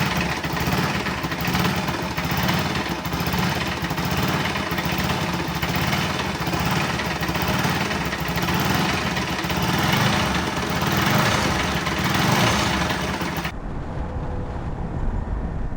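Bajaj Pulsar NS200 motorcycle engine with 75,000 km on it, running with an abnormal internal noise from worn crankshaft bearing and timing parts, a steady loud close mechanical drone that cuts out sharply near the end.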